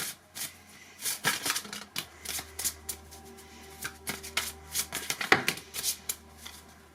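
Oracle cards riffle and slap together in repeated soft bursts of shuffling, close and quiet, with brief pauses between handfuls.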